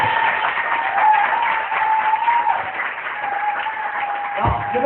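A church congregation applauding together, steady sustained clapping from a crowded room with a held musical tone running underneath.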